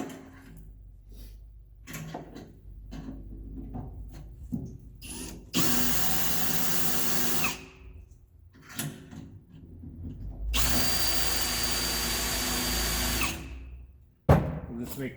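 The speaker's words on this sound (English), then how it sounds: "We'll drill a hole here." Power drill boring a hole through metal tubing while fabricating a storage door on a 2001 Freightliner bus conversion, two long loud runs of several seconds each, separated by quieter clatter and handling noises.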